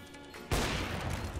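A sudden loud burst of gunfire from the video game CS:GO erupts midway and keeps going as a dense, continuous volley after a quieter opening.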